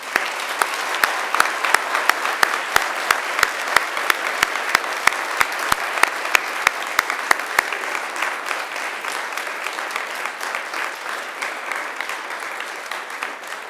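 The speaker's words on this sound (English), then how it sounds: "it's time to give them a mighty round of applause" Graduation ceremony crowd applauding families and friends at Macquarie University, a dense sustained clapping from a large audience with sharp individual claps standing out early, gradually thinning toward the end.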